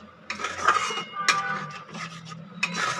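Spoon scraping and clinking in a pan while a cashew and yogurt paste is stirred into spices for a Kolkata dhaba-style chicken bharta, close and fairly quiet, with a few sharper metal knocks.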